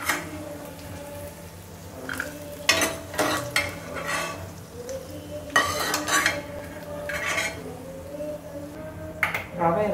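Dates fry and get stirred in a pan for traditional pineapple rava kesari: a spoon scrapes and clanks against the pan in repeated bursts over a low sizzle, with a voice talking in between.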